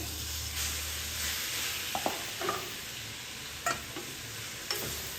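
Cooked lentils are stirred into leafy greens frying in a pan for a soppu palya, producing a quiet, low sizzle with a few sharp clinks of the spoon, close but faint.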